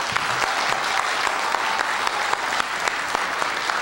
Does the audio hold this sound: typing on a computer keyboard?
no